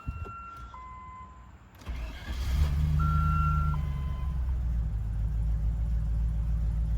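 A 1997 Land Rover Discovery cranks and starts up after a couple of electronic warning chimes, then settles into a steady, close, rumbling idle.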